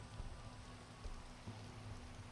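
Steady rain falling in the Minecraft video game, a continuous soft hiss of raindrops with a faint low hum beneath, even and unbroken throughout.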